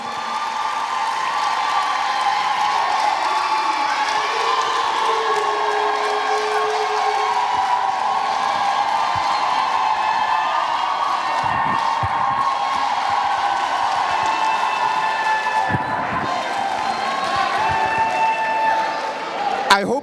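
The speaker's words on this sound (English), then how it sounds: "Please, let's give him a big round of applause." A large audience applauds and cheers for a guest at a live event, a dense sustained wash of clapping and whoops that holds for about twenty seconds, with a few voices rising above it.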